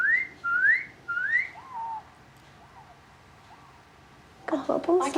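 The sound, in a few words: person whistling, imitating a kiwi parent bird call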